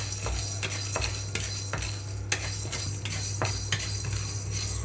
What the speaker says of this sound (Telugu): ఇప్పుడు ఇదే పాన్లోకి ఎండు కొబ్బరి అలాగే పచ్చిశనగపప్పు మినప్పప్పు కూడా వేయించుకుంటున్నాను